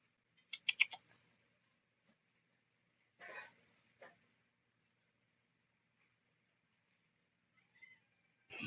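Cats meow in the video game Prey, with a few short, faint mews scattered through otherwise near-silent game audio.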